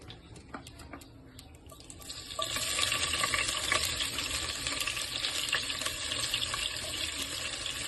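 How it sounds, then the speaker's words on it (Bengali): Onions frying in oil left over from browning meat in a home kitchen while making chicken biryani, a steady hissing sizzle that swells after a couple of seconds and then stays loud and even. "তেলটাতে আমি পেঁয়াজ ভেজে নেবো।"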